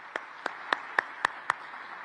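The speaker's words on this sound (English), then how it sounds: "Right, warm round of applause." A handful of single, sharp hand claps spaced evenly at a summit speech venue in Kigali, each a crisp isolated crack over a quiet room hum rather than a full ovation.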